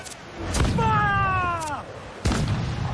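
Ship cannons fire in Assassin's Creed IV: Black Flag, with heavy booming blasts at a steady pace and a shouted voice in between, amid steady battle noise.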